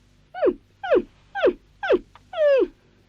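A cartoon dog in a 1969 animated series makes five evenly spaced, loud whining yelps with falling pitch, the last one longer and wavering, against a quiet background.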